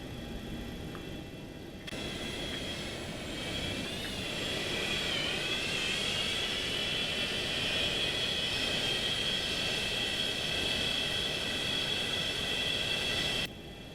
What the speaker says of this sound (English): Engine number 1 is running, and the start relight selector has gone back to off.